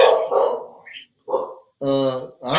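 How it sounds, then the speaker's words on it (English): A dog barks indoors with a few sharp, fairly loud barks separated by short pauses and a little background noise. "What's up with that dog, man?"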